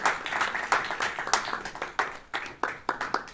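An audience at an award ceremony applauds as winner Mina Demirtaş is invited to the stage: brisk, dense clapping from many hands with sharp individual claps, moderately close and steady throughout.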